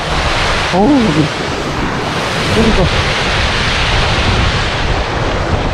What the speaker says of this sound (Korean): 여기가 물소리가 진짜 좋네